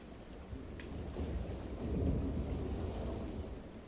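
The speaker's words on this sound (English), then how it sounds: "I feel like I might hear thunder again, which is unfortunate. In game, I'm saying, by the way." Thunder in the video game Splatoon 3, a low, distant rolling rumble that swells and fades alongside soft rain-like hiss, with no one speaking.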